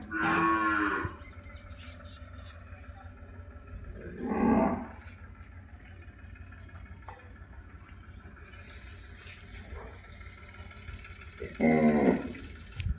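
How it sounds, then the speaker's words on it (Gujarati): Three separate moos from cattle in a long cow shelter pen at a sanctuary, spaced several seconds apart over a low steady background, each call close and strong. "ઘણી બધી ગાયો છે આમાં પણ."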